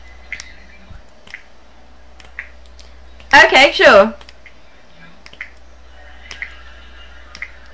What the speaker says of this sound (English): I need you guys to snap your fingers like this.